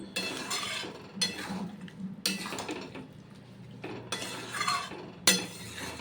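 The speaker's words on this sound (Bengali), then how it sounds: "নাড়াচাড়া করে নিচ্ছি" Drumstick pickle stirred with salt in a metal pan: intermittent bursts of scraping and clinking from a utensil, several separate stirring strokes with quiet gaps, fairly faint and close.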